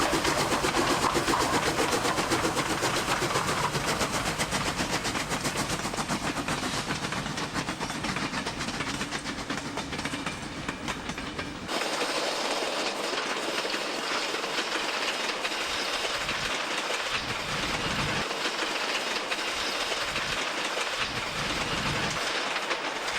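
A steam train consist rumbles past a quarry at North Goulburn in New South Wales, loud and continuous, with clattering wheels and broad noise that shifts partway through as the cars roll by.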